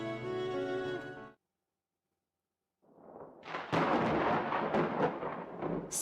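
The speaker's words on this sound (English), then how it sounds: "Suddenly, there's a much louder boom than the one I caused, and thunder rumbles outside." Boom and rumbling thunder in a visual novel game: a gap of silence, then a rising low rumble swells into a loud, sustained crackling thunder roll, after a short tonal musical passage at the start.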